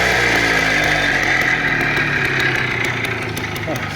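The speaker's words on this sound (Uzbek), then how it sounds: "Mana hozir gaz berib ko'raman." Motorcycle engine running close and loud, a steady throbbing drone with a slight lift in pitch near the end, and a voice faintly under it.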